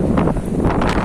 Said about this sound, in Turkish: Çok rüzgar var arkadaşlar.